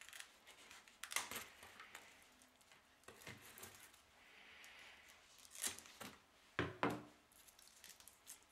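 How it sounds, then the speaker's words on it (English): Scissors snipping the leaves of an old orchid plant during repotting, a few sharp crisp cuts in quick bursts, close and fairly quiet, with rustling of the leaves between the snips and no talking. "I will cut some of the leaves until I can get the plant into the soil."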